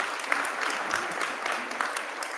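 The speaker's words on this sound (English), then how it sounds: "Let's give ourselves a round of applause." Audience applause at a school honors convocation, a steady patter of many hands clapping together in a large room, sustained and fairly loud throughout.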